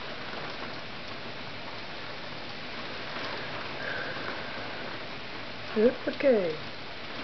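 Heavy rain pours steadily through a night storm in The Hague, a dense, even wash of hiss that fills the whole stretch, with a man's brief exclamation near the end.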